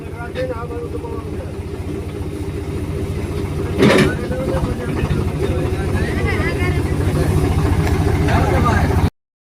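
A tractor engine idles steadily nearby as cut sugarcane is loaded onto it in a waterlogged field, with a low rumbling drone throughout and a brief louder clatter. Voices can be heard over the engine.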